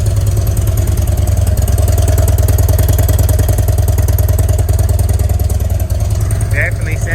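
A Harley-Davidson CVO motorcycle engine runs steadily close by, a loud, continuous low rumble with a fast lumpy idle pulse throughout.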